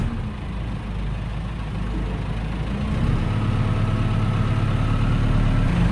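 A heavy tractor engine idles steadily nearby with a deep, low rumble that grows slightly louder halfway through. There are no voices.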